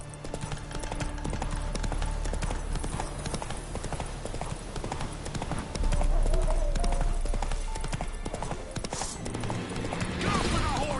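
Horse hooves clip-clop at a gallop in The Witcher 3: Wild Hunt, a rapid rhythmic pounding that runs throughout, with occasional whinnies, a voice speaking briefly, and game music and battle sounds underneath.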